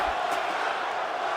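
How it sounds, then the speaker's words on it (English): A wrestling crowd chants and roars in a steady, dense wash of many voices that fills the arena without breaks. "The crowd chanting for one more time"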